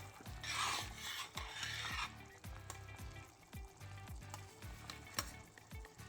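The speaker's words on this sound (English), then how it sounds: "we're going to run this through a strainer to collect only the sauce" Dungeness crab sauce is pushed and scraped through a strainer in repeated rasping strokes, a steady rhythmic scrubbing with a louder, denser burst near the start and no voices.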